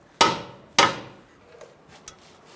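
Two sharp hammer taps drive a strut bolt through the front lower ball joint of a 2000–2007 Ford Taurus, followed by a couple of faint metallic clinks, close and with no talking.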